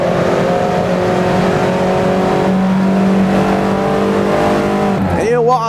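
A race car in the Assetto Corsa sim racing game roars at sustained high revs with a steady, harmonically rich engine whine, closing with a quick gear change and a drop in pitch, and a voice talks over it.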